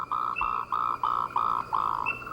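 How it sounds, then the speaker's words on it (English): Frogs and toads in a Taiwan forest at night, including Sauter's brown frog, the Pengo toad, Swinhoe's brown frog and Motreki's green tree frog, give a steady run of six pulsing, evenly spaced calls, fairly close and clear. "Sauter's brown frog, the Pengo toad, Swinhoe's brown frog, and Motreki's green tree frog start to sing."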